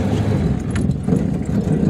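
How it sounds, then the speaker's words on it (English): A vintage Auburn automobile's engine runs in a parking lot with a steady, slightly rough mid-pitched rumble, close and loud throughout, with no talking. "You drove your first Auburn."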